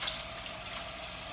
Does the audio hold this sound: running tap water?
yes